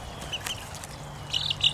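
Chicks peep in short, high chirps while children handle them, a few brief calls close by over quiet room noise.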